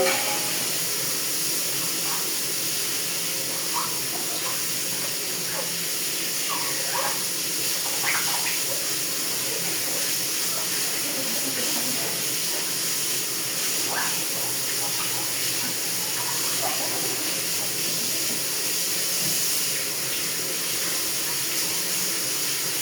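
Water runs steadily from a tap during washing in a home kitchen, a constant close hiss throughout, with faint clinks and brief background voices.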